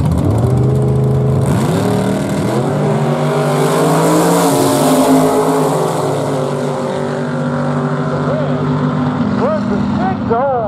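At Barona Drag Strip, a Chevrolet Vega and a 1956 Ford Thunderbird launch side by side in a drag race. Loud engines rev and climb through rising, shifting tones, roaring close and continuous, with a voice faintly audible underneath.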